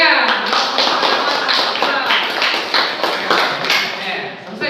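Students in a classroom clap together after a group presentation, giving a brisk burst of hand claps with some chatter mixed in.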